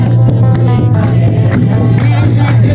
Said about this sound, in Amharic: በየመሃሉ የሚሰማው የከበሮ ድምጽና የእናቶች እልልታ መንፈስን ያድሳል።